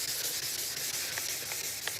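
A 1200 grit sanding disc rubs across a Vauxhall Corsa headlight lens in a steady, close, quiet scratchy hiss with slight rhythmic strokes, and no voices.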